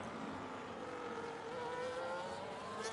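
An F1 25 race car engine roars at full throttle as a steady, sustained whine with no pause, the sound continuous and fairly close from start to finish.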